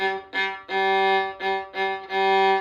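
A bowed violin plays a repeated short-short-long rhythm on one pitch, clear and close, with brief gaps between the notes and no talking.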